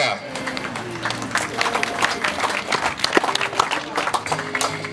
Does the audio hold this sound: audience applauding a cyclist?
yes